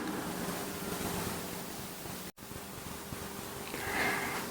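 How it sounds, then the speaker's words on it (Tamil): Adai batter frying in hot oil in a kadai gives a steady, dense, close sizzling hiss that briefly cuts out midway, then resumes just as strongly. "கடாயில் எண்ணெய் விட்டு நல்லா சூடாயிடுச்சு. நம்ம தட்டி வச்ச அடையை இதில் சேர்த்துடலாம்."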